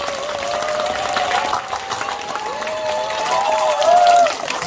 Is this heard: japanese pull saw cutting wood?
no